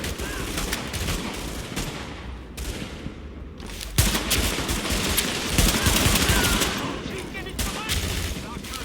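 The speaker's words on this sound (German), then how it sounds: "Ich schieß so viel." Dense, sustained gunfire from The Division, with rapid overlapping bursts of automatic weapons fire running nearly continuously, a brief lull midway, then heavy firing again, and faint voices underneath.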